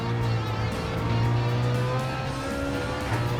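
Race car in a racing video game braking and cornering after a shift to sixth gear, its engine a steady, loud drone with a faint tire squeal throughout.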